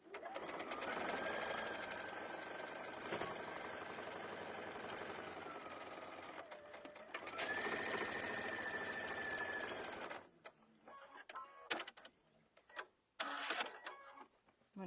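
A sewing machine stitches a fabric candy twist pouch at a quarter-inch seam, running in a steady whirring hum with a brief pause and speed change, then stopping into quiet handling clicks and rustles.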